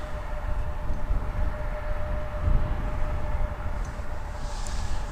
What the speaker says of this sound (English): Is this our first Jazz Embraer of the stream? Embraer 175 headed to LaGuardia.